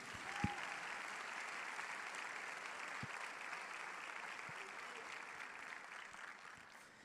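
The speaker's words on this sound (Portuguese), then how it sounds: "Vamos aplaudir ao Senhor, meus amados." A congregation applauds steadily, a broad wash of clapping from many hands that carries on evenly and fades slightly toward the end.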